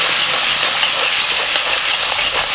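Masala of black cumin, ginger, green chilli paste, cumin, dried chilli, salt and turmeric being stirred and sautéed in hot oil in a pan, a loud continuous sizzle and hiss with no voices.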